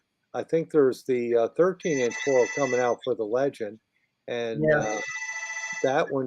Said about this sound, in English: Somebody's got a phone ring.